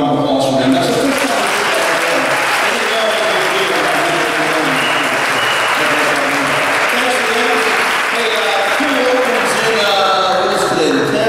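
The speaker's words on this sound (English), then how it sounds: "So one more round of applause for them." Audience applauding a school band at a spring concert, a loud, sustained roar of clapping that fills the whole stretch evenly, with a few brief voices breaking through near the end.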